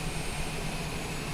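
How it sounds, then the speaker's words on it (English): A Beechcraft Longitude business jet taxiing along a yellow taxi line toward the taxiway, its engines giving a steady, loud, continuous roar from start to finish with no voices. "Obviously, this airplane doesn't go in reverse, so I'm just going to taxi this yellow line and out onto the taxiway."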